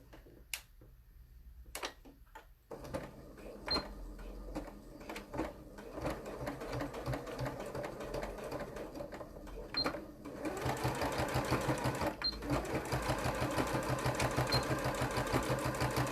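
Sewing machine stitching a welt pocket, running in short bursts and then a long steady rapid stitching run that grows louder and denser, with faint talk early on.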